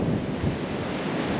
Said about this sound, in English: Wow, here comes the wind.